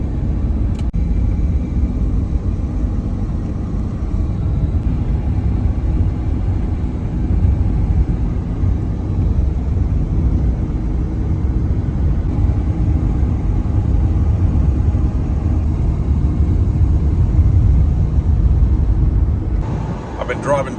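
A car cruising on an interstate in North Carolina, heard from inside as a steady, loud low rumble of road and engine noise that holds constant throughout with no talking.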